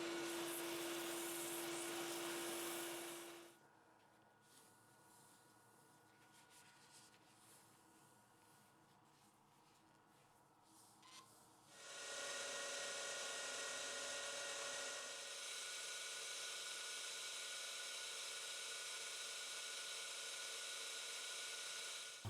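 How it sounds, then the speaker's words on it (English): Sandpaper against a spinning wooden bottle stopper with a natural edge on a lathe, a steady hissing whir for a few seconds, then a long quiet gap before the sanding hiss resumes for about ten seconds. "For the sanding, I start with 120 grit sandpaper, then 180, 240, 320, 400, and finally 600."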